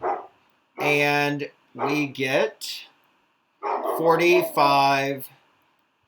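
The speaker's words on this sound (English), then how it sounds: "That's just my dog barking in the background." A pet dog barks in the background at home, two loud bursts of barking separated by a pause, close enough to stand out clearly while a person talks during a math lesson.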